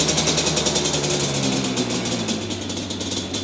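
A Yamaha Banshee ATV engine, a two-stroke that had sat too long, running close by at a rough, fast idle, with a continuous rapid pulsing buzz that fades slightly toward the end.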